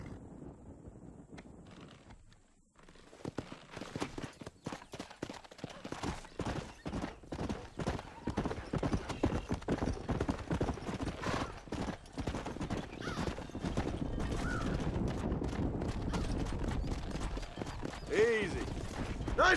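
A horse's hooves clip-clop in Red Dead Redemption on Xbox 360, a steady run of close hoofbeats building after a brief quiet start, with a short whinny near the end and a voice speaking over it.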